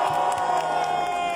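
Crowd at a Paris rally in support of Mali cheering and applauding, a brief burst of whoops and shouts over a murmuring mass, with a nearby voice briefly audible.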